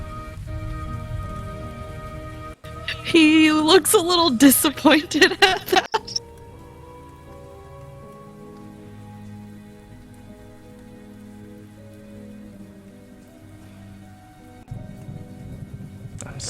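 Rain falling steadily, a soft continuous patter under a voice that comes and goes, with a brief louder burst of other sound early on.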